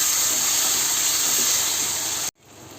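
Tomatoes and onions sizzle in a pan for sambar, a steady loud close frying hiss that stops abruptly near the end.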